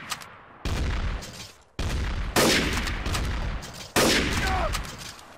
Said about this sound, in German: Ich knall dich warum? ab.